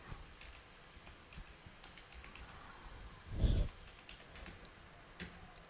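A computer keyboard clicks with soft, scattered keystrokes while data is entered in Tally Prime accounting software, rising to one brief louder burst of quick key presses midway before settling back into faint, sparse tapping.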